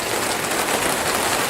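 Steady rain falls outside during a humid morning around microgreens, a constant even hiss with no pauses or louder drops standing out, close and moderately loud, with no talking.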